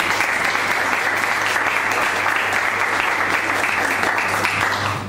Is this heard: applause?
yes